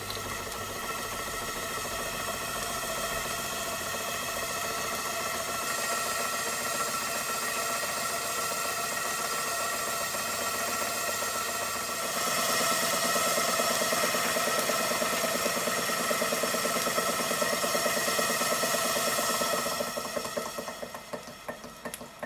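A Stuart Victoria model steam engine runs continuously in a workshop with a steady mechanical chugging and faint rhythmic clicking, its tone brightening partway through before winding down at the end.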